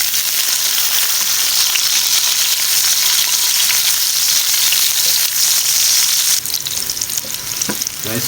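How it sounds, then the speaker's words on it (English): Tomatoes hit a well-oiled pan while cooking buttered chicken, giving a loud, steady hissing sizzle that runs without a break, with a faint clatter near the end and no voices. "And now the tomatoes go in."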